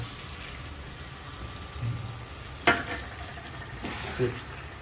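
Chicken curry with yogurt and cashew paste being stirred over a high flame: a low, steady sizzle with occasional soft scrapes and knocks of the spoon in the pot, fairly faint.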